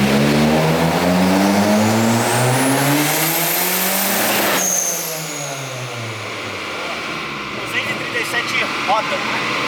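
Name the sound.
turbocharged Ford Focus accelerating through gears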